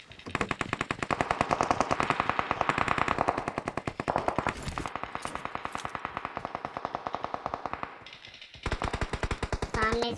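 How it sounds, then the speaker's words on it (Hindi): Rapid bursts of automatic gunfire from a battle royale video game, loud and sustained through most of the stretch with a short break near the end before another burst resumes. "सामने से ही आ रही है गोली।"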